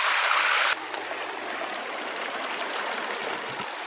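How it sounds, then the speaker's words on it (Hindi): Hot spring water stream flowing across a road on the Deosai Road in Pakistan and into a river, a steady close rushing and gurgling flow with a brief louder burst at the start. "रोड को यहाँ पे क्रॉस करते हुए आगे जा रहा है, दरिया में शामिल हो रहा है ये पानी"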